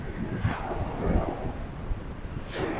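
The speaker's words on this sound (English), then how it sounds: "the wind is constantly changing direction" Wind gusting on Lady's Mile Beach near Limassol, Cyprus: a close, rumbling buffet against the microphone, swelling and dropping in uneven surges over a few seconds.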